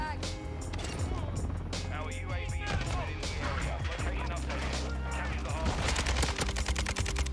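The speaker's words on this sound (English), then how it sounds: "That's literally just firing down there." A Kastov 762 rifle in Modern Warfare 2 fires in rapid automatic bursts, close and loud, layered over game music and effects, with sustained rattling shots toward the end.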